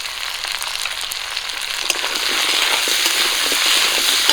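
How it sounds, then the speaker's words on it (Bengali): Taro and potato pieces fry in a pan with salt and turmeric, giving a steady, dense, close sizzle that grows slightly louder as it continues, with no talking. "কচু আর আলু একটু ভাজা ভাজা করে নেবো"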